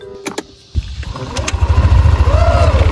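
A motorcycle engine starts after a few clicks and knocks, catches, and settles into a loud, rough, rapidly pulsing idle that grows stronger. A brief voice-like sound is heard near the start.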